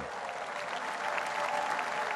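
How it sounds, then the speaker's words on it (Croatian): An audience at an outdoor evening concert gives a dense, sustained round of applause, steady and fairly distant, with no voices over it. "Molim vas, pozdraviti još jednim velikim, velikim pljeskom."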